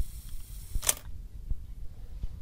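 A 1960s Miranda Automex III film SLR fires its shutter after the self-timer runs, giving one crisp mechanical snap among faint soft ticks in a quiet room.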